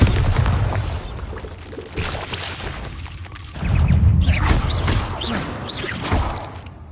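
A Bombarda spell explosion in Hogwarts Legacy, cast inside a cave: a heavy booming blast with a rumbling, whooshing tail that swells again midway, loud and close with no talking.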